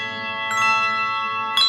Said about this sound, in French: vous prenez la cloche et vous l'agitez pas n'importe comment. Vous faites le bon geste pour que le battant la frappe à l'intérieur.